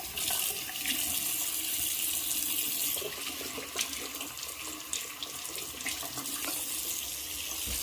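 Tap water runs steadily into a sink during washing of mouth and hands, a continuous broadband splashing hiss with small clinks and shifts, close and alone.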